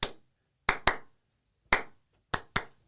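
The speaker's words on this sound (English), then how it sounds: "I feel like we could do a little clap along." Six sharp hand claps in an uneven rhythm, close and crisp with silence between them, as people try to clap along.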